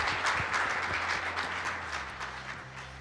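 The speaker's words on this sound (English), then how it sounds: "Give them a big round of applause." A small audience applauds after a panel discussion. The clapping is moderately close and fairly loud at first, with distinct individual claps audible, and it gradually thins and fades over the few seconds.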